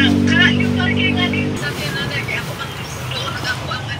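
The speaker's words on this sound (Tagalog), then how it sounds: "Traffic. Traffic na." Road traffic passes in a steady broadband wash with engine hum, heard under speech from nearby voices, most prominent after the first second and a half.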